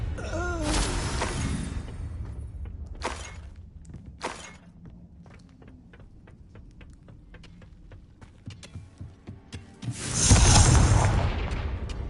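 The Confringo blasting spell in Hogwarts Legacy: several sharp spell bursts crack out in the first seconds, followed by scattered small impacts and a louder rumbling explosion toward the end.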